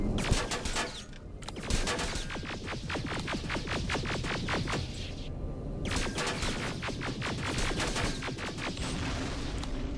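Rapid bursts of automatic turret fire in the Terminator Resistance video game, sharp repeated shots in several volleys with short pauses between them, loud and close.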